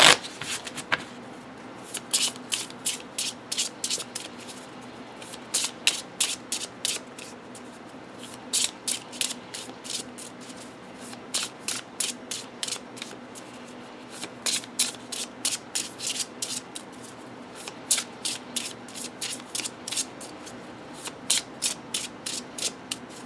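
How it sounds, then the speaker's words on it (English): Tarot cards from a low-Scarabeo Sibilla deck being shuffled, split and laid out, with rapid rhythmic flicking bursts repeating steadily throughout, close and crisp with no talking. "you can just split your deck and then just lay out your 9 cards"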